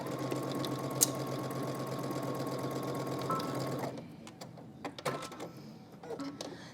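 A sewing machine runs steadily while stitching a 5/8-inch seam on a wrap dress, a continuous close mechanical whir that stops near four seconds, leaving scattered light clicks and handling noises.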